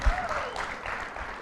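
Studio audience applause for a finalist on the reality TV show I Am President, a short burst of moderate clapping mixed with some voice.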